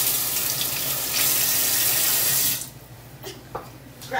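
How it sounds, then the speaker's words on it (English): Tap water runs loudly into a sink during handwashing, a steady gushing stream for a couple of seconds, then shuts off, leaving faint drips and splashes. "Wash, wash. Wipe, wipe. Wash hands."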